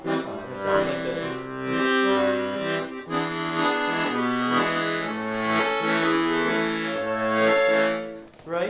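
Accordion plays a bouncy oompa accompaniment, with a steady alternating bass-chord pulse under a sustained melody, played close and loud throughout with no talking.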